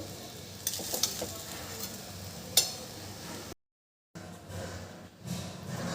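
Jeera rice being stirred in a cooking pan after sugar and salt are added: a few light scraping clinks over a soft sizzle, with a brief dropout to silence partway through.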